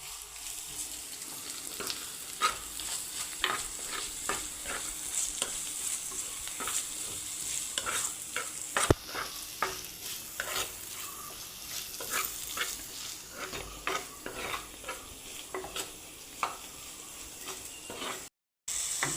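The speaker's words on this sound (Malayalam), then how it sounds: "ഉള്ളി വഴകി വരുമ്പോഴേക്കും നമുക്ക് കുറച്ച് ഒരു തക്കാളിയുടെ പകുതിയും കൂടി അതിൽ ചേർക്കാം" Onions sauté with half a tomato in a pan for a dried prawn curry. A soft, steady sizzle carries frequent light scrapes and taps of a spoon stirring against the pan.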